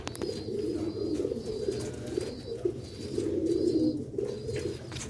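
Sialkoti and Aliya pigeons coo in a low, steady, overlapping murmur that runs the whole time, close and moderately loud, with faint chirps above and no talking.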